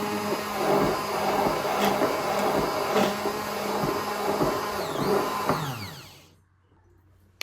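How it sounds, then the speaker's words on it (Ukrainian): Immersion blender whipping homemade mayonnaise from oil and salt, a steady loud motorized whir with shifting pitch that runs continuously, then cuts off near the end leaving near silence. "І збиваємо це все погружним блендером."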